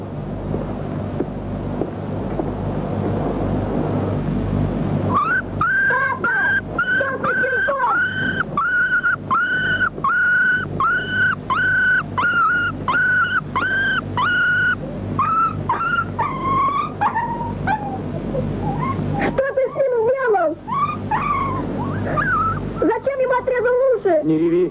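A puppy whimpers in a run of high, thin, wavering whines that start a few seconds in and continue over a steady low rumble of background noise.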